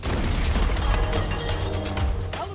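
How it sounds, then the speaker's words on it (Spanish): Deck guns on a WWII submarine firing at a Japanese trawler: loud, heavy booming blasts roll together into a dense, sustained barrage of gunfire with no talk audible. "Según se iba desarrollando el tiroteo, los disparos de la tripulación eran cada vez más precisos"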